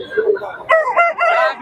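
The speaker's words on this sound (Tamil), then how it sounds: "சேவல் எல்லாம் வச்சிருக்காரு இவரு." A rooster crows loudly and close by at a busy poultry market in Kundarapalli, South India, with other fowl clucking in the background.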